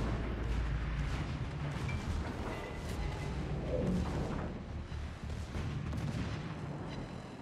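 Secondary gun batteries of a warship blast away in a naval battle video game, a dense, continuous roll of booming artillery fire that rumbles loudly and steadily throughout with no pause.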